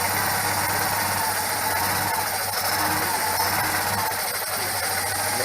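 A Citroen 2CV engine with a stall-prone carburettor idles close by in a steady, even mechanical hum and buzz with no pauses.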